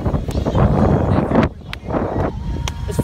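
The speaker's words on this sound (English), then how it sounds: "it's so windy out here" Strong gusty wind buffets the microphone outdoors, a loud rumbling roar that surges and dips, with faint voices in the background.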